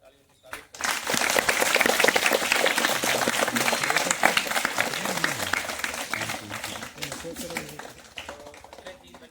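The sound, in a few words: audience applause welcoming guests at school event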